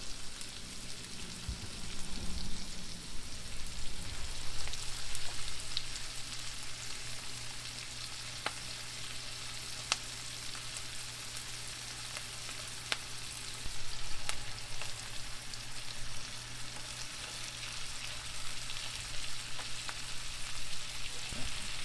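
Tomatoes go into a hot pan for spaghetti and meatballs and sizzle steadily, a continuous close frying hiss with a few light clicks and scrapes throughout.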